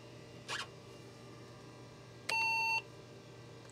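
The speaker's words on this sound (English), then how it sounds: "Is that BIOS coming up? Such a loud beep." A single loud electronic BIOS error beep from an old XT clone computer, held for about half a second, after a brief rustle over a low background hum.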